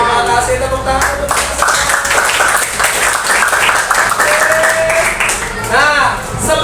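A class of students in a classroom applauds together, a steady dense clapping that fills the whole stretch at close range, with a few voices and whoops mixed in.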